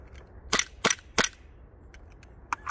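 Three sharp shots from a Sarsilmaz SAR 9 9mm pistol ring out about a third of a second apart. Each one is loud and near. A few fainter clicks and knocks come afterwards.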